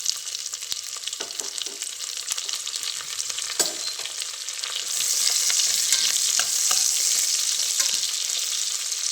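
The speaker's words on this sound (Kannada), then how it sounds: "ಈರುಳ್ಳಿ ಸ್ವಲ್ಪ ಬ್ರೌನ್ ಕಲರ್ ಆಗಬೇಕು." Chopped onions fry in ghee for ghee rice, making a steady close sizzle that grows louder partway through, with scraping stirs in the pan.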